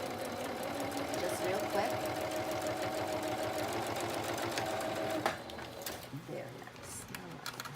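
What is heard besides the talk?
sewing machine doing a straight stitch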